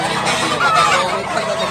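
Chickens and roosters at a gamefowl farm in Cebu make a dense, steady mix of clucks and honk-like calls close by, with no gaps.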